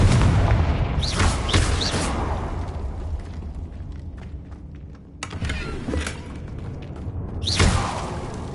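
Confringo spell explosions in the video game Hogwarts Legacy: loud booming blasts with whooshing bursts over a steady rumbling game background.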